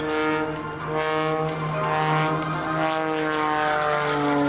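A Sean Tucker aerobatic propeller plane performs high-energy diving snap rolls at the 2003 Dayton airshow, its engine holding a loud, steady, droning roar with slight pitch shifts and no talking.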